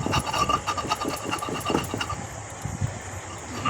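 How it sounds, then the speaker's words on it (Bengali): Fresh ginger is ground on a stone shil-nora grinding slab, giving a rough, rhythmic scraping and rubbing of stone on stone in quick back-and-forth strokes, close and clear with no talk. "প্রথমে আদাটা বেটে নিব শিলনোড়াতে, আদাটা মিহি করে বেটে নেব।"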